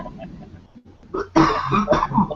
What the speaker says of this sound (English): Who's coughing?